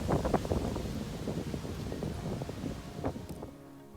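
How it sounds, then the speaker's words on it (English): Outdoors on a windy day, gusts buffet the microphone as a continuous low rumble with faint rustling. The roar stays fairly loud for several seconds and then eases off at the end. "It was such a windy day."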